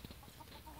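A backyard chicken, a white bird with a fluffy crest, gives soft, quiet clucks in a brief burst, faint against the background with no speech.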